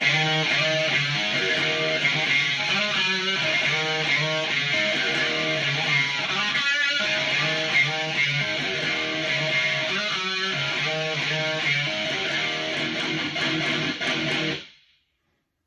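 A distorted electric guitar plays a heavy metal riff with slides and bends, loud and continuous, ending with a quick fade.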